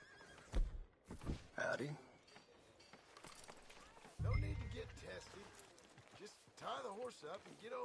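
In Red Dead Redemption 2, a horse whinnies and snorts with hoof sounds nearby, mixed with in-game character dialogue and game noise.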